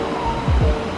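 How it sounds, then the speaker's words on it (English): Small waterfall in the town of Ulm in southern Germany, a steady close rushing of falling water with a couple of low splashing surges near the middle, no talk. "Little waterfall type thing."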